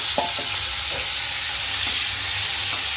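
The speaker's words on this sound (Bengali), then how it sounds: "চিংড়িটা আমরা হালকা করেই ভাজছি" Prawns crackle and sizzle continuously in hot oil, with a few short scraping clicks from stirring along the way.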